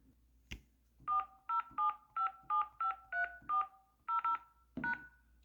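Telephone keypad tones dialing a phone number, about ten crisp evenly spaced dual-tone beeps close up, with a click before them and faint background.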